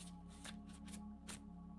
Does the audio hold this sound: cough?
no